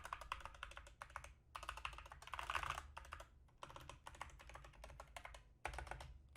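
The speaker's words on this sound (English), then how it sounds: "Oh, the spacebar sounds really nice" Typing on an Epomaker SK61 mechanical keyboard with Gateron Yellow switches, rapid close clacking keystrokes in bursts with brief pauses and a few heavier spacebar thocks.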